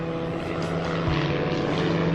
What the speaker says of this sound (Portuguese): Um avião em chamas